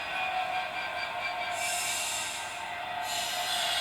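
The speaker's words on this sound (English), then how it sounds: "this locomotive is probably going over about 30 points in this one sidings test" A model Class 66 locomotive runs back and forth over Peco insulfrog points on tight radius 2 siding track, giving a faint, continuous mechanical whir and rail rumble with a slight rise partway through.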